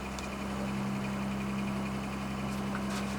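A trawler's engine running steadily around 1325 RPM at six knots, a constant low droning hum with a fixed tone and faint mechanical vibration, unbroken and without talk.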